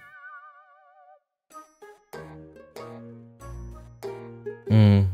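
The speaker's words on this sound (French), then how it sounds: "Cette sonnerie me dit quelque chose." A mobile phone ringtone in the Code Lyoko visual novel game plays a short melodic electronic tune of bright chiming notes, starting with a wavering tone, clear and alone.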